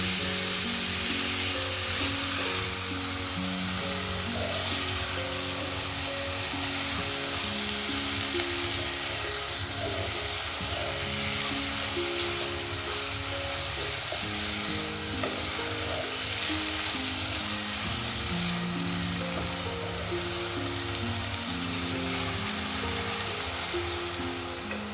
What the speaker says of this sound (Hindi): अब आपने कीमा शामिल करना है और कीमा शामिल करने के बाद आप इसको स्पून से मिक्स कर देंगे